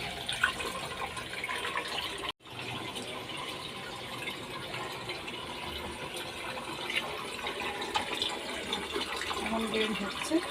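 Dirty, iron-laden water pouring out of a washing machine during cleaning of its iron guard, a steady close rushing flow that stops briefly once and then keeps running.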